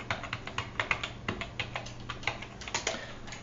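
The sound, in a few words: typing a password on a computer keyboard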